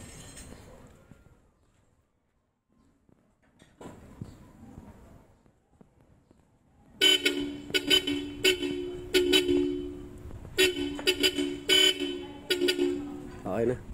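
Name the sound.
car horn being tested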